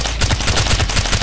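Rapid gunfire in Far Cry 4 during a prison escape, a dense burst of loud, closely spaced shots filling the whole moment with no pause.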